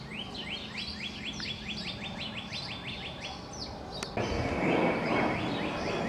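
Birds chirp steadily in a backyard in a repeating pattern of short, bright tweets, with a soft outdoor background hum and a louder rustle near the end.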